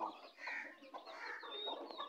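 Chukar partridges that have not yet bred call in a continuous close chorus of bright, repeated chattering notes, with no speech.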